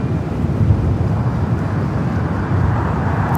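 A Southwest airliner in special livery taxis and turns onto a taxiway at LAX, producing a steady, loud, broadband engine rumble and roar with no breaks or voices.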